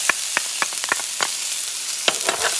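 Onions and pepper sautéing in a pan, a crisp steady sizzle broken by quick crackling pops scattered irregularly, close and fairly loud with no voices.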